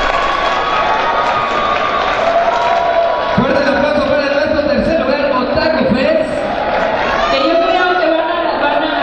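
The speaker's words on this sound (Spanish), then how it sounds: "Fuerte el aplauso para nuestro tercer lugar, Otaku Fest" Loud crowd applause and cheering at a cosplay awards ceremony in Mexico for the third-place winner, a dense continuous roar of clapping and shouts from a large audience, with voices mixed in throughout.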